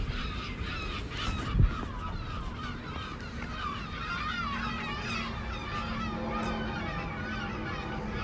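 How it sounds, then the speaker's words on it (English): Several crows caw repeatedly outdoors in Westerpark, Amsterdam, harsh calls layered over steady background noise, with a brief thump partway through. "You hear the birds."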